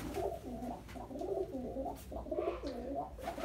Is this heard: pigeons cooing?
yes